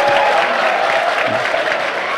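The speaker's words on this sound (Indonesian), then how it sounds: "Ngono ya tepuk tangan" An audience at an Islamic religious lecture claps loudly and steadily, with faint crowd murmur and a few cheers mixed into the sustained applause.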